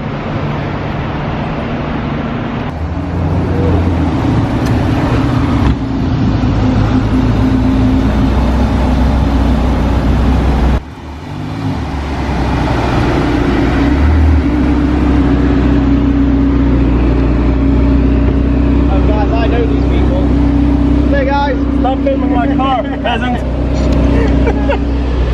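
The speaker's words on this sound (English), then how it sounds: "This is a Ferrari Portofino." A Ferrari Portofino drives along with a steady engine drone and the shifting hum of the road, and people talk over it almost the whole way through.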